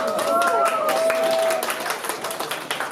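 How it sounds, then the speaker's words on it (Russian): Audience applause at a bridal pageant, a dense wash of clapping that is loud at first with music tones over it, then thins into scattered claps toward the end. "Аплодисменты, друзья!"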